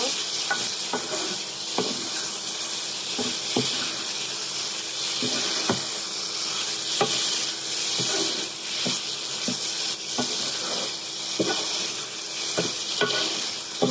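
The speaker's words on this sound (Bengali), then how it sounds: "আগে থেকে আমি এইভাবে নেড়ে নেড়ে দশ মিনিট মতো কষাবো" Chicken pieces and potatoes fry in a pan for a Bengali curry while a spatula stirs and scrapes at a steady rhythm over a constant bright sizzle.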